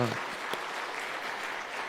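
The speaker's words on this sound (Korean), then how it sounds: "우리 하나님께 영광의 박수 올려드리겠습니다." A church congregation at a New Year revival evening service claps together in a dense, even burst of applause, close and sustained, with a short voice at the very start.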